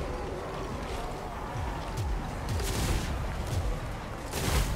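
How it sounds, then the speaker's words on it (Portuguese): Scattered gunshots and explosions crack across a noisy video game battle din, with bursts overlapping amid steady rumbling background. "Isso é bem legal que ele fica dando tiro no meio do campo de batalha"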